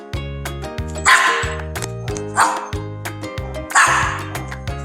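A dog barks in short, loud bursts, about three distinct barks with yips between, close by and alone over a steady background hum.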